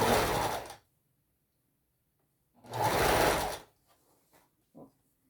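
Sewing machine stitching fabric while making a Christmas panettone holder, running in two loud bursts of under a second each with a short gap between, then a few faint clicks.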